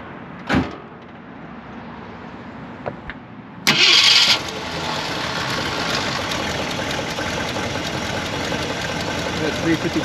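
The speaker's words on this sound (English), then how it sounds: "That 352 just comes to life, runs very smooth, no funny noises." Stock 1958 Ford Thunderbird with a 352 V8 cranking after a door thump, catching with a loud burst and settling into a smooth, steady idle close by.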